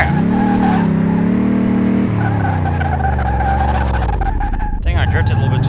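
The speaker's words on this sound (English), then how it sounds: "Drifted a little bit too far." Tires squeal as a car drifts during a test drive in Car Mechanic Simulator 2018, the engine note wavering underneath, with someone talking over the screech throughout.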